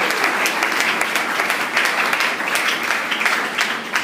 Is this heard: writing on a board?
no